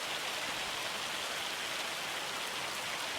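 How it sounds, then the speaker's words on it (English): Hail pelting down in Farming Simulator 25, a steady dense hiss of pellets striking the ground and surfaces, even and continuous with no voices. "Oh, it's hailing."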